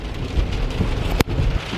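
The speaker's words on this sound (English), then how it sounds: "it's just pouring down rain" Heavy rain pours down steadily onto a flooding road early on Halloween morning, a loud, dense hiss that continues throughout with one brief dip near the end.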